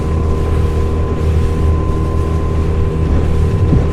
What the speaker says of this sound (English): There we got a huge vessel coming through.